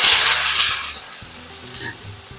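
Potato pieces drop into hot oil already holding broken dried chili and curry leaves, setting off a bright, loud sizzle that fades to a softer crackle, with faint clinks of a utensil against the pan.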